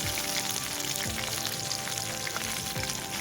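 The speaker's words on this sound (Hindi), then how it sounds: "मछली हमारी फ्राई हो चुकी है।" Zinger-style fish fillets fry in oil over medium-low heat, giving a continuous close crackling sizzle with scattered pops throughout and no voices.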